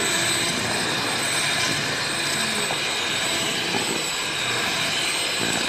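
An electric mixer beats a large cake batter of flour, margarine, sugar and eggs, giving a loud, constant whirring drone with no breaks.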